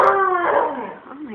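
A dog howls briefly, a short rising-and-falling wavering howl close by, asking for tuna.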